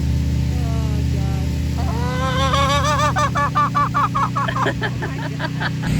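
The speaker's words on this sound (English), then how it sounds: "What's up, little chicken?" Chickens and other fowl at a blueberry farm during a festival give repeated nasal honks and calls, starting sparse, then a rapid run of loud close cries over steady low background hum.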